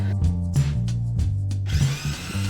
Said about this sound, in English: Grind these a little bit before I put them in the sauce.